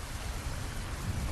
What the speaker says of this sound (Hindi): बाहर तेज बारिश और बिजलियों की गड़गड़ाहट थी।